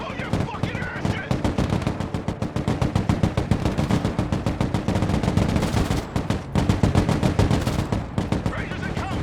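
Dense automatic gunfire and machine-gun bursts in the military video game Broken Arrow, loud rapid rhythmic volleys running continuously throughout with shouted voices underneath.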